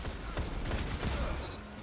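Rapid hip-fire gunfire in an online looter-shooter game, a dense continuous burst of shots layered with game effects and no clear pauses throughout.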